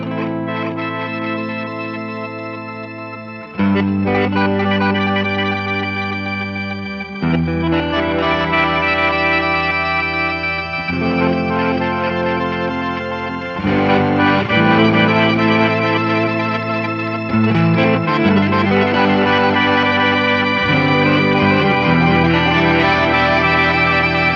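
An electric guitar runs through an Eventide effects pedal, giving shimmering chorus-like chords with long echoing tails, each new chord swelling over the lingering wash, loud and continuous with no voices.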